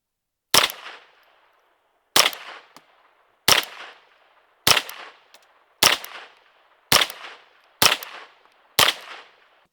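A Derya Arms TM22 .22 shotgun fires target ammo at a target about 10 yards away: eight sharp, evenly spaced shots about 1.2 seconds apart, each loud and close with a short decay, and no talking.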